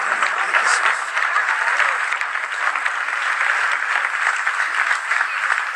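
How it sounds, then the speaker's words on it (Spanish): Church congregation applauding together for a sustained stretch, a dense, steady wash of many hands clapping that fills the space without pause. "Denle un aplauso al Rey."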